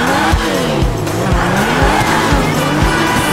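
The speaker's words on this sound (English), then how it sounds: "let me hear that engine rev" A sports car in the video game GTA 5 revs its engine hard while its tires squeal repeatedly, loud and close, with rising and falling engine pitch throughout.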